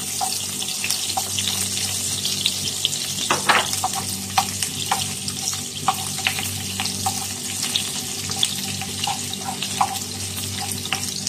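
Garlic sizzling in reused cooking oil left from frying tuna, a steady crackling fry with scattered sharp pops and spits, close and alone with no talk.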